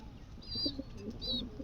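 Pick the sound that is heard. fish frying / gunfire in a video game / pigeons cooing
pigeons cooing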